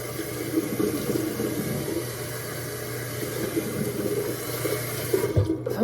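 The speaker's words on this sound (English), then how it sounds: "Rinse with like lukewarm water." Lukewarm tap water runs from a faucet into a sink while a face is rinsed, a steady close splashing rush lasting throughout with brief louder splashes near the end, no talking.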